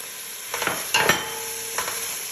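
A spoon stirs spices into simmering harira, with a few scraping strokes against the pot over a soft, continuous sizzle.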